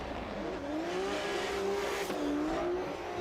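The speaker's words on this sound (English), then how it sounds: "Locking the front brakes, but on full throttle, just trying to control the rear of that car" A drift car at a drift championship in Oman shrieks with a long tire squeal on full throttle, its pitch wavering and sliding as the rear end slides, heard from a distance with a steady engine roar underneath.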